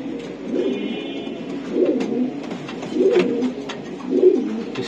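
Racing pigeons cooing up close in a loft, several low rolling coos in a loose repeating rhythm with short pauses between them.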